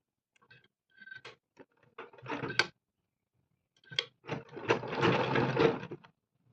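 A sewing machine runs in two short bursts of fast mechanical whirring and clatter while a boat-neck blouse is stitched, close by with quiet gaps between.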